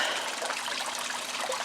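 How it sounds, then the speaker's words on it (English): Water trickles steadily in a backyard garden pond about thirteen years old, a continuous bright splashing burble, close and even, with no voices. "But we know what this is. This is Harper's pond."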